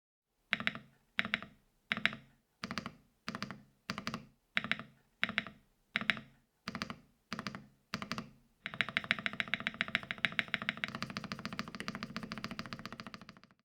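A muted custom keyboard spacebar pressed about a dozen times in an even rhythm, followed by a burst of rapid continuous typing, close and fairly quiet.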